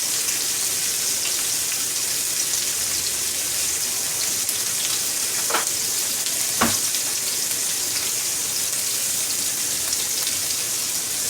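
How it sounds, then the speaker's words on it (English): Steak searing in a hot pan, a continuous, loud, rain-like crackle that stays even for the whole stretch, broken by two short sharp pops near the middle; no one speaks. "we're just gonna let those finish searing off"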